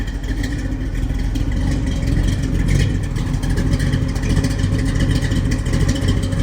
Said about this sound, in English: Take a listen to this idle.